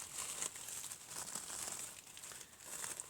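Tissue paper being unwrapped from a gift, a steady run of close, dry crinkling and rustling that keeps going for about three seconds with no voices.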